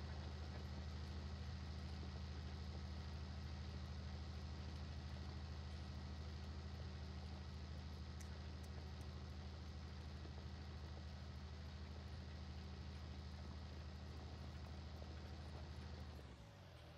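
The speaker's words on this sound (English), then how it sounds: "It's a very nice tractor." Steady low engine hum of a Renault tractor idling in Farming Simulator 19, constant and even throughout with a quiet, unchanging drone before it fades out at the very end.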